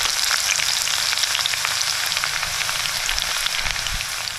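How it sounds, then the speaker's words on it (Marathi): Garlic sizzles steadily in hot oil with popping mustard seeds for a tempering, a dense, close, continuous hiss with crackles and no voices. "मोहरी तडतडली की आता आपल्याला ह्याच्यात ही लसूण टाकायची"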